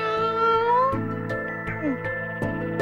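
A cat meows repeatedly in a kitchen, with drawn-out, wavering cries over steady background music.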